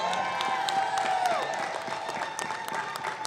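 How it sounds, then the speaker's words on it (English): An audience at an Illinois Legislative Black Caucus budget press conference applauds with scattered, moderate clapping, while a voice and background chatter carry over it. "Give yourselves a round of applause."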